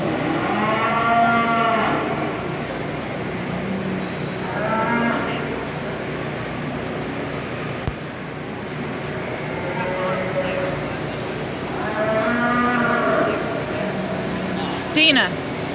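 Heifers moo repeatedly at a livestock show arena, several drawn-out calls in separate bursts over a steady crowd hum, with a voice speaking between them.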